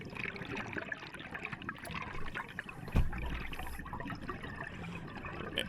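A scuba diver's alternate air source inflator lets out a steady wash of bubbles underwater, with a sharper gurgling burst about midway through.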